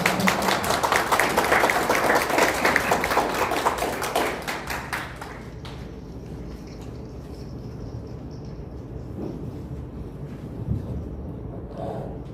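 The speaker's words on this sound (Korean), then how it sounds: "우리 구상진, 권오연 두 분 변호사님을 큰 박수로 맞아주시기 바랍니다" A crowd applauds with dense, rapid clapping that fades after a few seconds into a quieter room with scattered noise, as two lawyers are welcomed at a seminar.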